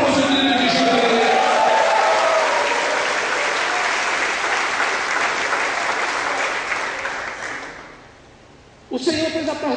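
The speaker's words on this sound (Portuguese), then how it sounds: "dê um aplauso ao nome de Jesus" A church congregation at a Saturday leadership service claps loudly and continuously for several seconds, the applause thinning and fading near the end before a voice cuts back in.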